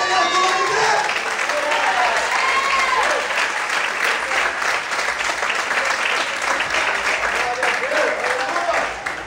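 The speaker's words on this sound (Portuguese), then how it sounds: "Quem acredita nessa revelação, aplaude o nome de Deus." A church congregation claps in dense, sustained applause that stays loud for the whole stretch, with a preacher's voice and cries from the crowd rising over the clapping.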